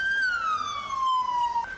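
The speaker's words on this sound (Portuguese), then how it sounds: "Gritos e sirenes." A single emergency siren sweeps downward in a loud, piercing wail on a street at night outside a burning nightclub in Santa Maria, close and clear over faint background noise.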